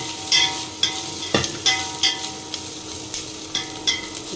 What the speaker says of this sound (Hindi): तो इसको साथ में अब भून लेते हैं।